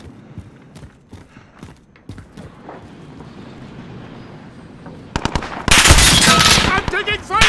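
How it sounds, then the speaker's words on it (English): Gunfire in Call of Duty: Modern Warfare, quiet scattered game noise and faint distant shots at first, then a sudden close burst of loud rapid shots with an explosive roar near the end, and a voice briefly heard under it. "I'm taking fire!"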